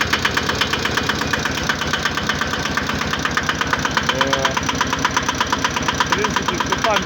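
An IFA 1VD diesel engine started at zero degrees, running with a rapid, even knocking beat close by and steady throughout, while voices talk quietly in the background.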